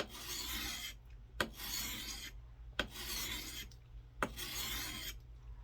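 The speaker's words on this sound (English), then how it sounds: "honing that edge" A camp axe head coated with WD-40 is honed in four long, even rasping strokes, each separated by a pause and marked by a sharp tick as the stone leaves the edge, close by with a low steady hum underneath.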